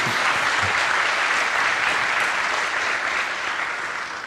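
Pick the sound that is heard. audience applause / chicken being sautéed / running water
audience applause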